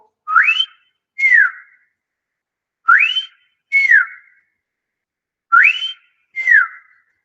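The green pigeon, Maharashtra's state bird, gives a clear whistling call: three evenly spaced pairs of pure whistles, each a rising note followed by a falling one, loud and isolated against silence.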